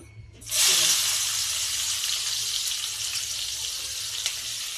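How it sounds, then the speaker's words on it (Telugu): Onions hit hot oil in a pan with a sudden loud sizzle that settles into a steady, close frying hiss for several seconds, with no talk. "అదే పెనంలో కొంచెం ఆయిల్ వేసుకుంటాం ఇప్పుడు ఫస్ట్ ఉల్లిపాయలు వేసుకుంటాం"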